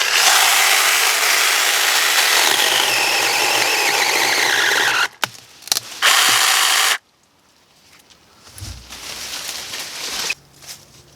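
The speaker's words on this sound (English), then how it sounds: "what I'm using for this cut is this portable chainsaw" A cordless portable chainsaw cuts through a tree limb, its loud, steady whine running for about five seconds, then a few short bursts before stopping, leaving quiet outdoor background.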